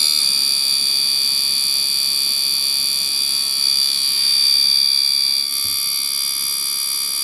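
An MSD ignition box tester fires an ignition coil with a steady, loud electrical buzz of rapid sparking that holds continuously throughout, with a brief dip near the end.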